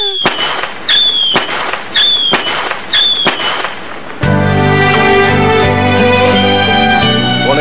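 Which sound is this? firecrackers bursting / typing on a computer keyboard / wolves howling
firecrackers bursting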